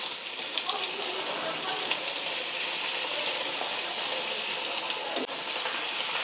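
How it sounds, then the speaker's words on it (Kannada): Avalakki (flattened rice) pooris frying in hot oil over a medium flame, giving a steady close-up sizzle and bubbling hiss with faint pops throughout. "ಇದು ಮೀಡಿಯಂ ಫ್ಲೇಮಲ್ಲಿ ಇಟ್ಕೊಂಡೆ ಫ್ರೈ ಮಾಡ್ಕೋಬೇಕಾಗ್ತದೆ"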